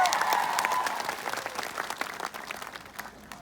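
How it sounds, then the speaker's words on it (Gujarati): Loud applause from a crowd gathered at a political rally, dense clapping at first that thins into scattered, uneven claps toward the end. "એકવાર જોરદાર તાળીઓના ગણગણાટથી વધાવી"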